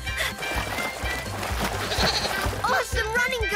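Cartoon goats in PAW Patrol bleat in wavering cries over busy music and sound effects, with a voice calling out near the end.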